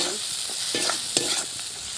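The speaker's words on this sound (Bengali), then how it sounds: "চিংড়ি ভাজা হয়ে এসছে, দিয়ে দেবো অল্প করে লঙ্কার গুঁড়ো" Shrimp stir-fry in a pan with chili powder added, a close, continuous sizzle broken by scraping stirs of the spatula.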